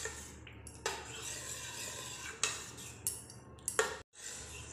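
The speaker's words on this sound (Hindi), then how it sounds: "हम इसे मिक्स कर लेंगे।" Spoon scraping and clinking against a bowl while raita is stirred and mixed, a few sharper clinks standing out from a steady rubbing swirl, close and quiet, with no talking.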